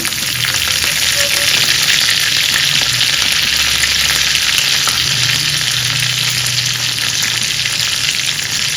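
Curry leaves and green chillies crackle loudly in hot tempering oil with cumin seeds: a dense, continuous sizzle close up, holding a steady level the whole time with no one speaking.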